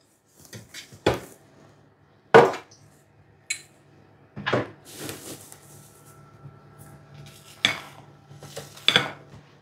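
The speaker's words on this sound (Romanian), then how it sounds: "Acum o voi goli în tavă." Thick cake batter for a Queen Maria walnut cake is scraped from a bowl into a baking pan, giving a series of separate knocks and scrapes of utensil against metal, fairly close, with quiet pauses between them.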